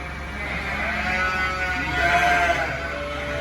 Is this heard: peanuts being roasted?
no